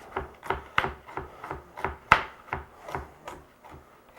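A knife cuts carrots into small pieces on a cutting board in a kitchen, sounding as about a dozen crisp, evenly spaced chops with a steady rhythm, close and clear and with no talk.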